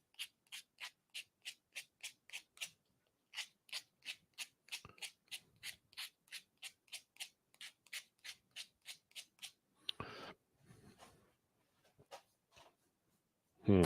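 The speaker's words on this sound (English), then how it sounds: "I'm going to have to take a little bit of sandpaper to that tip" Hand sanding the tip of a decorated wooden spinning top with small strips of 240-grit sandpaper, heard as a steady run of quick, rhythmic scratchy strokes close by, pausing briefly and followed by a few softer rubs.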